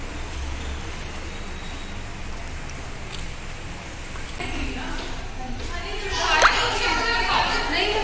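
Steady rain hisses throughout at a wedding resort in Kullu, India, in June, with children's voices and chatter audible in the background, growing a little busier near the end.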